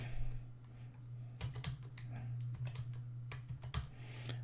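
Quick, irregular keystrokes clatter on a computer keyboard as data is entered into a spreadsheet chart template, close and moderately quiet over a steady low electrical hum.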